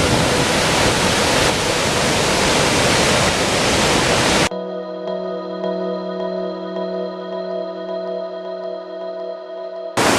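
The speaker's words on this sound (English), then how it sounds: "So I keep running into raging creeks and streams like this." Raging mountain creek in the High Sierra, heard as loud broadband rushing water for about four and a half seconds before an abrupt cut to steady tonal hum, with the rush briefly returning at the very end.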